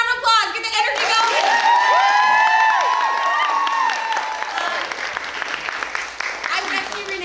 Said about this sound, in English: Give them a round of applause. Get the energy going.